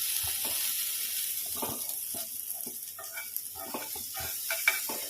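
Butter melting at the edge of a vegetable pancake on a hot pan gives a soft continuous sizzle, overlaid by a series of light scraping taps, fairly quiet and close.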